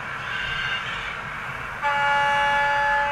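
A sound-fitted model Western Pullman train sounds a synthesized two-tone horn, a steady sustained blast that starts partway through over a quiet background rumble and holds to the end.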